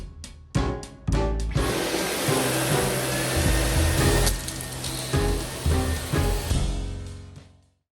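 A vacuum cleaner runs close and loud during home renovation work on a plasterboard closet, starting with a few bumps and clicks, whirring steadily with rubbing, shifting pitch, then winding down to silence.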